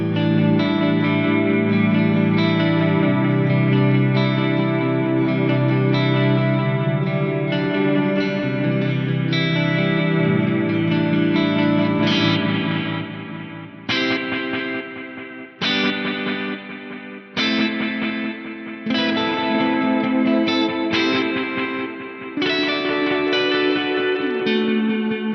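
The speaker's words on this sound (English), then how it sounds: "Let's just have a listen to this lovely lush stereo echo." An electric guitar plays through an Axe-Fx III Volante-style preset with lush stereo echo. Sustained chords and single notes ring out with warm repeating echoes, loud and alone, with a few sharper plucked attacks later on.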